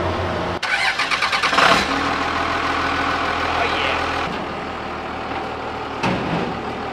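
A Plymouth Cuda's engine cranks with a quick rhythmic chugging, then catches and settles into a loud, steady, rumbling idle close by.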